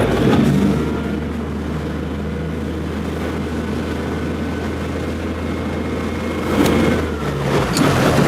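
The engine of a Sirius 40DS sailing yacht goes slightly into reverse while the boat turns in a marina, giving a steady, loud low drone that swells briefly near the end.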